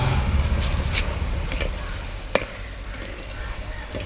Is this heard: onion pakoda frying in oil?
yes